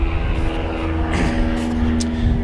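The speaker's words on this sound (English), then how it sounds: "Hold on, I apologize for this airplane." A low, steady aircraft engine drone fills the scene as an airplane passes over a home near an airport, loud and continuous with a broad rumbling hum.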